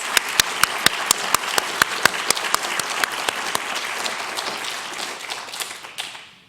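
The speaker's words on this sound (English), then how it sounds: "Let's give them one more round of applause for our students." Audience applause for students at a university Veterans Day ceremony, dense steady clapping with a few individually prominent claps keeping a regular beat, fading out at the end.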